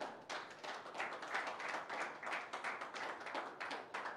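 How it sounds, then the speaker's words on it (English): A church congregation claps hands to the Lord in a fairly regular, rhythmic beat of many palms together, heard somewhat distant and quiet in the room. "clap your hands to the Lord."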